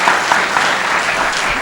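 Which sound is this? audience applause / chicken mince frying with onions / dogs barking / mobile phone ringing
audience applause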